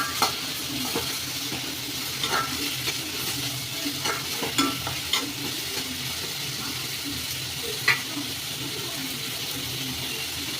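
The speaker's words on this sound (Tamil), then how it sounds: "நாலஞ்சு பல் பூண்டு போட்டு எல்லாத்தையும் நன்கு வதக்கணும்" Garlic cloves and other chutney ingredients are sautéed in a pan, a steady close sizzle broken by repeated scraping and clacking strokes of a stirring spoon at an uneven rhythm.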